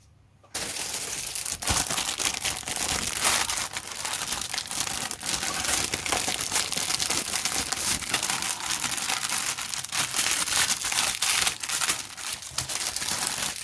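Resealable plastic bags holding sprues from a 1/35 Rye Field Models Leopard 2A6M CAN tank kit crinkle and crackle steadily at close range for over twelve seconds, with dense rustling handling and no talk.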